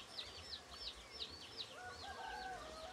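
Chirping and peeping of chicken and turkey chicks on a ranch, repeated short calls over a steady low hum, fairly close with a busy farm-like background.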